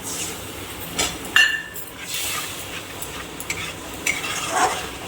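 Ground onion, ginger-garlic and chilli-turmeric spice paste fries in oil in a pan, a steady soft sizzle with occasional stirring scrapes and clinks, close and continuous, no talk.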